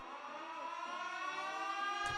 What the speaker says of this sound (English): He was cut off by the wail of an air raid siren from outside the tent.